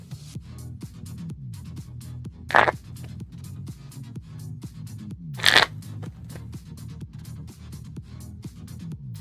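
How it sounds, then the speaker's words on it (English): A player shuffles a deck of Pokemon trading cards during a 2004 Worlds tournament match, with close, continuous rapid flicking and riffling and two sharper, louder crunchy bursts partway through, no talking. "I'll be shuffling my deck after I draw that card"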